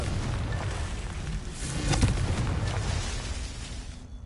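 Confringo fire spell exploding in the game Hogwarts Legacy: a dense, rumbling burst of blast noise that swells to a peak near the middle and then slowly fades, with no talking over it.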